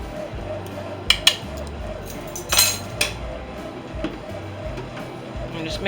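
A utensil stirs a spoonful of sugar into tomato pasta sauce in a pot, giving a few sharp clinks and soft scrapes over a steady background hum.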